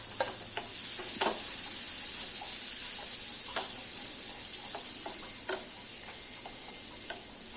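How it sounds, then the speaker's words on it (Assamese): Two finely chopped onions sizzle and fry steadily in a pan for palak paneer, with scattered sharp crackles and a few stirring clicks over a constant hiss. "পিঁয়াজখিনি অকণমান ভাজি লৈছোঁ লৰাই।"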